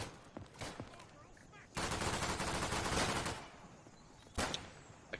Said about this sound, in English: Yeah, there's an MG up there.